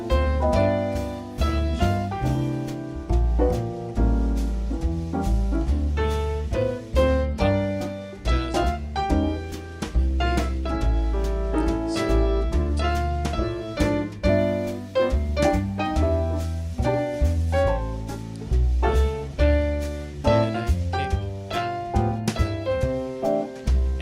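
A solo piano plays a lively melody over chords and bass notes, steady and close, with no voices.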